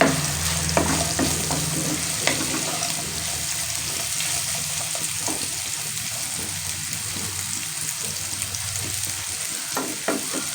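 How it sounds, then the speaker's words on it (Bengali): Potato pieces frying in a pan with a steady, close sizzle throughout, broken by occasional scraping and stirring clinks, with no talking. "আলু ভাজা প্রায় আমাদের শেষ"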